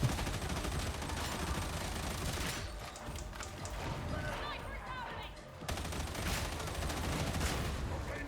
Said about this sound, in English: showing the effectiveness of horde clearing with this machine gun